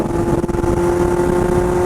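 A 2019 Kawasaki Z900 with a full exhaust system runs in a loud, steady, close drone that holds an even pitch throughout, with no talking.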